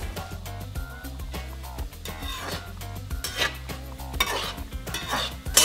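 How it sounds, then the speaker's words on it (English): Kuih Siput, a small Malaysian Nyonya snack, fries in hot oil, giving a close bubbling sizzle with frequent metallic scrapes and clinks of a utensil against the pan, with no talking. "You just want to have this perfect heat to really fry this and make sure that it's crispy"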